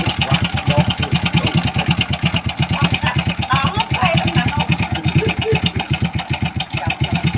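A motorcycle engine idles close by with a rapid, rough, steady chugging pulse, loud and uninterrupted.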